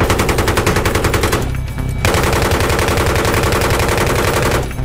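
Loud, sustained machine gun bursts in Battlefield 3, rapid and dense, with one short pause before the firing resumes and then cuts off.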